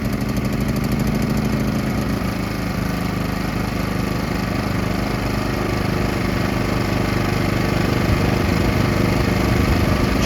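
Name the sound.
PowerSmart PS5025 2200W gas inverter generator running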